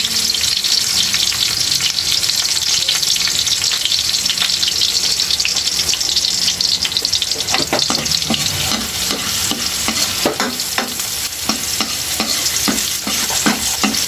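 Ginger and cracked black pepper fry in a pan as the base for dinuguan, giving a steady loud sizzle for the whole stretch, with scraping stirs coming faster toward the end.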